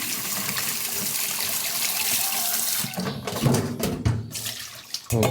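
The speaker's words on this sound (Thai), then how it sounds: "ก็ล้างน้ำเปล่าอีกรอบหนึ่ง ล้างอีกรอบเลยนะคะ" Tap water runs steadily into a sink as raw liver is rinsed to wash out blood, the smooth flow giving way midway to choppier splashing and sloshing as the pieces are handled.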